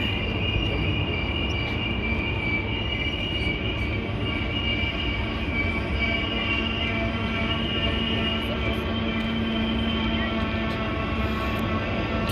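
A long freight train rolls steadily through the Spiral Cut, a loud continuous rumble of wheels on rail with faint metallic squeals riding over it, close by and unbroken from start to finish.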